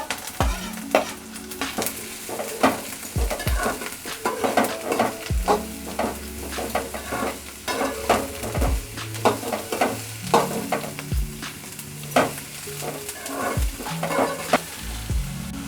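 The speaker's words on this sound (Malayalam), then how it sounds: "ഇനിയിപ്പോൾ നമ്മൾ അരിഞ്ഞു വെച്ച സവോളയും പച്ചമുളകും അമ്മ ഒരുമിച്ച് ഇതിലോട്ട് ഇട്ടിട്ടുണ്ട് കേട്ടോ" Chopped onions and green chilies sauté in hot coconut oil for a prawn dish, a loud close sizzle with repeated clattering stirs of a spoon against the pan.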